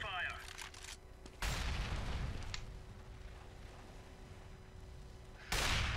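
Incendiary grenade thrown in the CS:GO video game, with sharp bursts and booming hits at the start and end of the clip and gunfire-like crackle between them, mixed with game effects.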